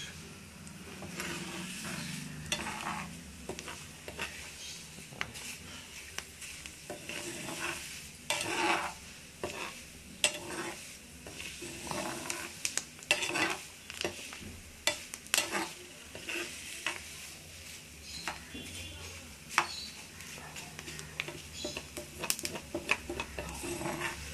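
Lemongrass frying in coconut oil in a pan, a continuous soft sizzle with frequent scraping and tapping stirs throughout, close and fairly quiet, no speech.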